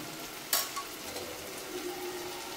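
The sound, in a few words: mushroom pasta masala sautéing in a pan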